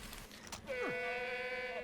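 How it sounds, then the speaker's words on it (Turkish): A goat in the video game Far Cry 3 gives one clear, wavering bleat, fairly faint, over a quiet game soundscape. "Lan keçilerin arasına düştük be."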